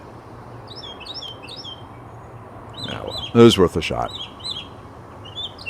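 Small bird chirps outdoors in a breezy setting, short high tweets scattered across the clip, partly under a man's speech in the middle.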